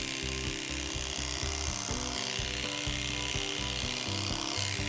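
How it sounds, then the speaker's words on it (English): Electric clippers trim the inside of a horse's ears during grooming, a steady, close motor buzz with shifting pitch and a rasping, rubbing edge as the blade works through hair. "we'll finish out the face by clipping out their ears"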